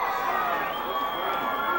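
Williamstown fans cheer in the stands at a 2009 high school football game against Delsea, a steady broad crowd roar lasting the whole moment, with no clear words over it.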